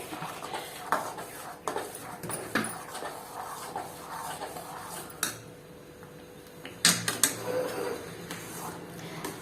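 Rava kesari stirred in a pan on a low stove flame, with repeated close scraping and clinking of a spoon against the metal pan in an irregular rhythm, somewhat faint, and little or no talking.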